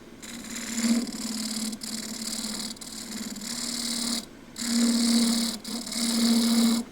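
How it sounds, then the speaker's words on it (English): A spear point tool shear scrapes an osage orange bowl spinning on a wood lathe. The tool makes a steady whirring, buzzing rasp in sustained passes of a few seconds each, separated by brief pauses. "So I will shear scrape that with a spear point."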